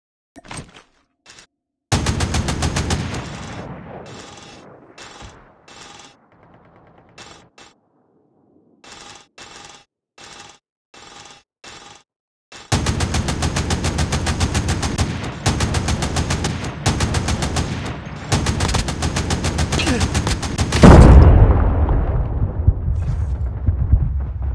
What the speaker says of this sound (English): turret deployed.